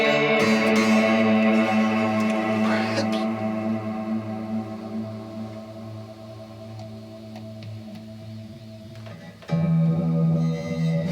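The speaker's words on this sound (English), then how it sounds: "It's tremoloing the reverb." A reverberant sustained tone with a pulsing, rhythmic wobble in volume, decaying slowly before a fresh loud chord enters near the end.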